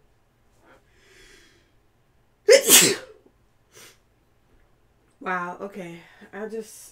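A single sharp, loud sneeze breaks a quiet room, followed later by a person speaking briefly.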